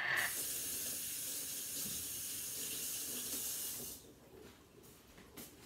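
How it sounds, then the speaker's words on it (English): A kitchen tap runs steadily while something is washed off under it, a loud, close, continuous hiss of water that cuts off near the end, leaving quieter handling sounds. "I'm gonna wash this off and I'm gonna wipe that out."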